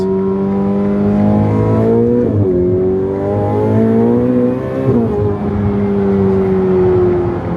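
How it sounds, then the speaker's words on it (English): Loud, steady exhaust drone from a Ferrari F8 Tributo with an aftermarket exhaust, the pitch climbing, dropping sharply twice at shifts, then climbing again, heard up close. "normally the F8 Tributo doesn't sound like this."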